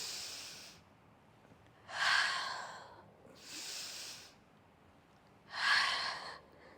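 Forceful breaths during a mat pilates double leg stretch: four short, breathy bursts spaced roughly every second and a half, close and clear against a quiet room, with the second and fourth exhales sharper and louder.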